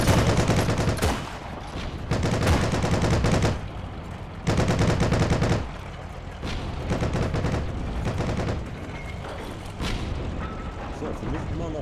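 Gunfire in the World War II online shooter Heroes & Generals, with bursts of automatic weapons and heavier booming shots going off in clusters, loud and nearby, and a short pause between volleys.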